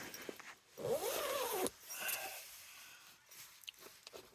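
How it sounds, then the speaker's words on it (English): A zipper is drawn along a cotton canvas tent in one smooth, close rasping pull lasting under a second, followed by fainter fabric rustling and small handling sounds. "See if we can close the zippers here."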